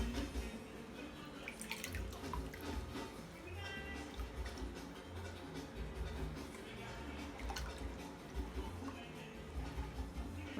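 Homemade ginger juice mixed with nutmeg is strained through a sieve, giving soft trickles and drips of liquid with light clinks, quiet and close.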